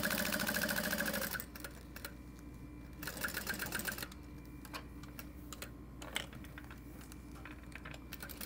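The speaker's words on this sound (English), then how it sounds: "And then you want to stitch down all four sides." Sewing machine stitching fabric while sewing the four sides of a Petite Alaine garment, a steady rapid mechanical whir that runs in bursts, pausing briefly between stretches of stitching, close and moderately loud with no talking.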